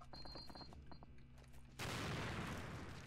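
A pineapple grenade detonates in the Return to Castle Wolfenstein shooter game, a sudden loud burst that cuts in after quieter ambient game sounds and rumbles on for over a second.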